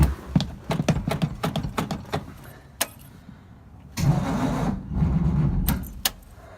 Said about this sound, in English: we're just not getting any kind of cranking power out of it